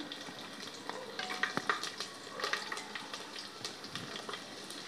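Garlic and curry leaves frying in a pan after cumin, a steady soft sizzle with faint scattered crackles and occasional stirring, fairly quiet and without talk.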